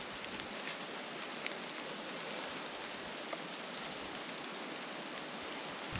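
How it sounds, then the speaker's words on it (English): Steady broadband patter of leftover rain dripping from trees and spattering on surfaces outdoors at Little Spar Lake, Montana, fairly loud and continuous, with occasional heavier drops standing out. "residual raindrops coming from the trees, coming off the trees"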